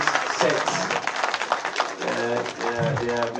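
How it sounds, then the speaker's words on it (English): An audience applauds at a Biafra War exhibition with scattered clapping that runs under a speaking voice, fairly brief and moderately close. "let us give hands of applause to the little"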